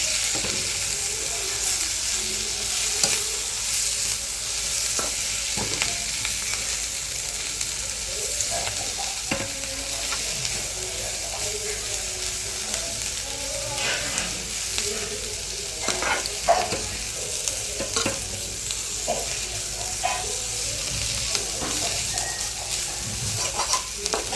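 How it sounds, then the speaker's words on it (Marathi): Vegetables sauté in a hot pan, a steady broad sizzle broken by frequent scraping and clinking as a spoon stirs and turns them, close and fairly loud with no talking. "आता यात भाजी टाकायची अशी परतून घ्यायची छान"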